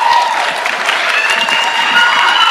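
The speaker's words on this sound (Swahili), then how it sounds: "Haya, pigia makofi gavana." Steady applause from a crowd of chiefs and officials at a county security forum in Nyandarua, Kenya, thanking the governor; dense continuous clapping fills the whole stretch, close and fairly loud, with no talk over it.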